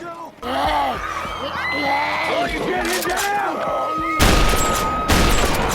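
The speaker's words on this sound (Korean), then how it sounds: "베이스 캠프 근처에 도착할 때쯤 갑자기 들리는 총성" Excited shouting and yelling voices in a zombie drama scene, then a couple of loud, sharp bursts of gunfire close by near the end.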